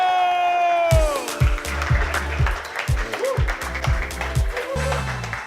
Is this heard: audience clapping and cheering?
yes